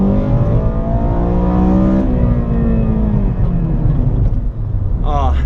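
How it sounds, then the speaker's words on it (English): A Honda Civic Si FA5 engine revs up in second gear and climbs into VTEC, a rising harmonic howl that builds loud and steady, then drops off sharply as the revs fall. "We'll turn off the AC so we can get more power, and I'll give you a little second gear VTEC."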